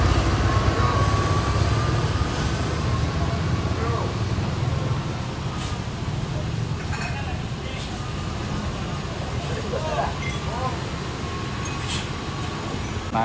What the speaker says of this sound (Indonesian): bus yang dikendari oleh Bang Alex Legowo.